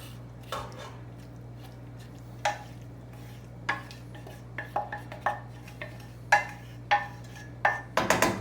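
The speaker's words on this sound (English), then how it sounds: "Still using the 2x4. Let's give this a mix." A 2x4 plank stirring cooked meat into a big pot of goulash, giving irregular wooden knocks and scrapes against the pot over a steady low hum, close by with no talk.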